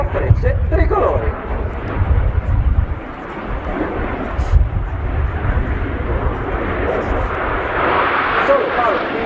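Italian Air Force Frecce Tricolori jets roar through a solo tail slide at the RIAT 2019 air show, a loud continuous engine rumble swelling and fading as the aircraft pass overhead, with an announcer talking over it.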